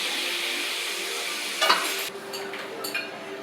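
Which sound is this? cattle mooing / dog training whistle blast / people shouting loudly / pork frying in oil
pork frying in oil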